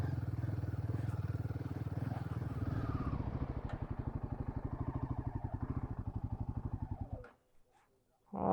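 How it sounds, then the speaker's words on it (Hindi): A Royal Enfield Himalayan motorcycle rides at the Gangotri temple site in the Uttarakhand Himalayas, its engine chugging in a steady, loud, pulsing beat for about seven seconds before cutting out abruptly into near silence. "बाइक को अंदर लेके जाएंगे।"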